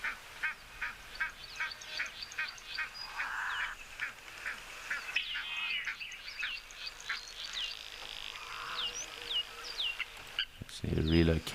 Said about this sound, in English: just watching our Egyptian geese as they feed amongst the cow creature at the moment